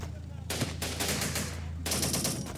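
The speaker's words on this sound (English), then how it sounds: "So let's go ahead and open fire here." Troops open fire in the strategy war game Syrian Warfare, a steady rattle of automatic gunfire over a low engine drone, with a heavier burst starting about midway and a sharp hit near the start.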